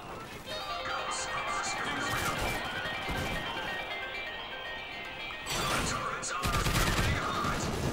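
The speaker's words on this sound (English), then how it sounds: "I'm going to bring out myself a sniper" Sniper rifle fire during a Call of Duty: Ghosts multiplayer match on PS3, with sharp crashing shots and a dense wash of game sound, growing louder toward the end.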